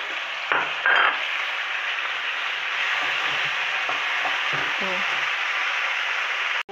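Yellow pumpkin stir-fried with spring onion and salt crackles steadily in a pan, with a couple of short stirring scrapes early on over a continuous hiss.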